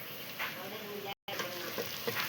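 Onions with turmeric frying in a pan as they are stirred, a steady close sizzle with light scraping, briefly cut to silence midway.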